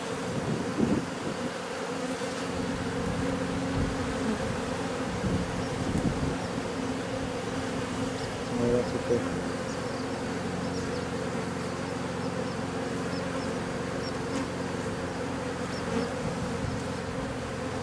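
Honeybees humming steadily around an opened hive showing swarming fever, a dense continuous buzz with a few louder passes of individual bees near the listener, no talk.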